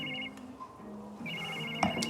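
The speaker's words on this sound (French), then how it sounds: "Julien Bastide est en train de t'appeler." A telephone rings with an incoming call, a close electronic ringtone repeating in two short bursts over quiet room tone, with a brief soft knock near the end.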